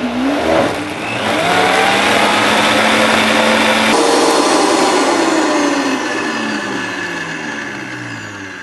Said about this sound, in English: put your Vitamix on variable and you slowly increase the speed